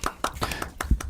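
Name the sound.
applause for a guest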